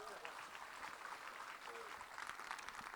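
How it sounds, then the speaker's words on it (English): Audience at a live show applauding a guest named Rob, a fairly soft, steady patter of clapping with some voices mixed in underneath. "Let's give Rob a round of applause."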